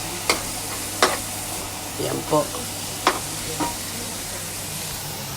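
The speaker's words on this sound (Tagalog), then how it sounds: "Nilagay ko na po yung sibuyas." Onions sizzling in a pan and being stirred while cooking a large batch of bopis: a steady frying hiss with several sharp clinks of a utensil scraping the pan, while a voice speaks briefly.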